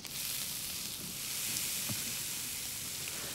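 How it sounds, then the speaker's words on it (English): Salmon laid skin side down in sizzling butter in a raised-bottom pan, cooking outdoors in Greenland; a steady, close hiss of frying runs throughout with a faint clink or two. "So a knob of butter, pan starts to sizzle, which is exactly what I'm looking for"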